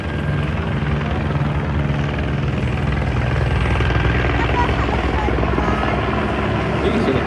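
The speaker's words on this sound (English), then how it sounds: "Look at the helicopter, Henry." A loud LAPD helicopter drones overhead near the Santa Monica beach, its rotor thrum steady and close throughout.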